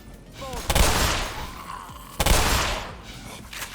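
Gunfire in the video game Black Mesa: two loud, sharp blasts about 1.5 seconds apart, each with a broad crack and a decaying rumbling tail, over a busy game background.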